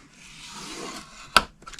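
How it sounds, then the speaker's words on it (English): Cardstock scored on a Simply Scored scoring board: a soft, quiet drag of the stylus along the groove, ending in one sharp close click, with no voices. "let me get my Simply Scored, and we're going to start on the 11 inch side, and you're going to score at 1"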